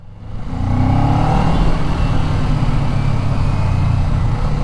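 A Kawasaki Ninja 500 motorcycle engine pulls hard under acceleration, a loud, steady droning roar heard close up with wind rush and no speech.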